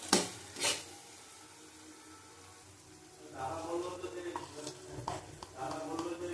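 Chana dal with pumpkin, potato and turmeric being stirred and fried in a pan: a couple of sharp clanks from the spoon early on, then a stretch of steady scraping strokes over a soft sizzle.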